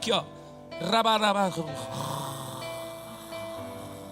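A preacher imitates snoring with his voice, giving a loud rattling snort followed by a drawn-out nasal, wavering tone, in a church or sermon setting.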